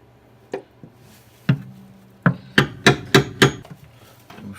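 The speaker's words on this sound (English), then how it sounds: "I'll just use a punch to make sure that they're in the right place and that the drill doesn't walk." Sharp hammer blows drive a center punch into metal while marking drill holes during a Porsche 914 front sway bar installation, seven or eight crisp metallic strikes, the last five coming in quick regular succession, close and loud.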